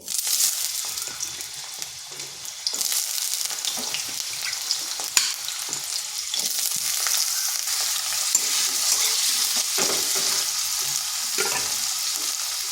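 Cut chunks of a large potato fry in hot oil in a kadai, giving a steady, dense sizzle and crackle that runs the whole time at close range, with a few brief spatters and stirring sounds.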